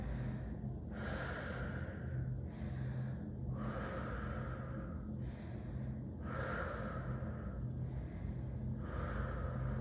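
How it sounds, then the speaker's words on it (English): Slow, deep breaths during a stretching workout, about five long inhale and exhale cycles heard close to the microphone over a low background hum. "Take a couple deep breaths here."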